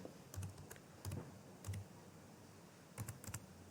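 A blog title is typed on a computer keyboard in short bursts of close, crisp key clicks separated by brief pauses, in a quiet room with no talking.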